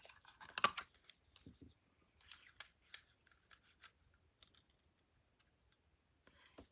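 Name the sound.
scissors cutting paper for a card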